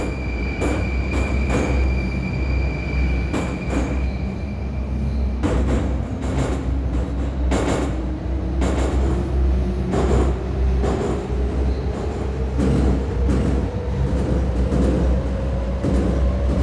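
A Moscow Central Circle commuter train runs with a constant rumble and clatter of wheels over rail joints, a rising electric motor whine as it accelerates, and occasional wheel squeal; no voices.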